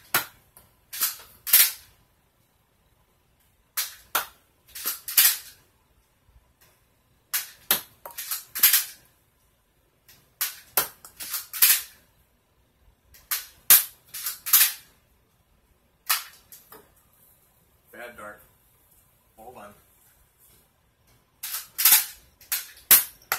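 A Nerf Rebelle Charmed Fair Fortune blaster fires X-Shot, Dart Zone and Busby foam darts in an accuracy test, giving a series of sharp, close snapping shots in irregular clusters with short quiet gaps between them.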